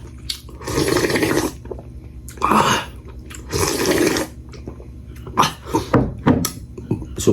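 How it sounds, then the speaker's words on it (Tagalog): Soup broth is slurped during a simple breakfast eaten by hand, several loud, close sucking slurps in irregular bursts with short pauses between. "Higop tayo ng sabaw."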